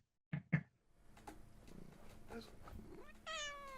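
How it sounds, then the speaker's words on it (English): A cat on someone's lap gives two short, close meows followed by rustling and a longer rising meow at the end. "So I've got a cat on my lap now."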